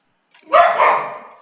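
A single sharp bark from a female dog, close and loud, bursting out of near silence in a home during an online class and trailing off quickly.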